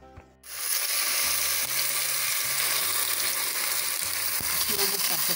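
Beef steak sizzles in a frying pan, a steady loud hiss that starts abruptly and continues throughout, with faint clinks and scrapes underneath.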